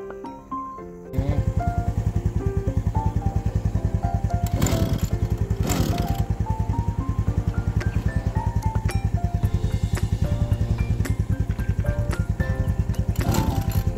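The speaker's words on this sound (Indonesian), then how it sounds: "Ada kalanya susah untuk dihidupkan enjin mesin rumput ni." A grass-cutting machine's small engine starts after a second of quiet and runs steadily and loud, its rapid even putter continuing throughout with a few brief surges, no talk over it, during lawn work on a farm plot.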